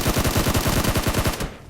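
Rapid automatic gunfire in PUBG Mobile, a fast evenly spaced stream of loud close shots that cuts out just before the end.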